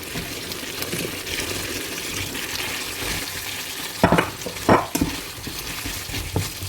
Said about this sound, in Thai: แครอทเนี่ยใส่ลงไปเพื่อผัดรวมกันนะคะ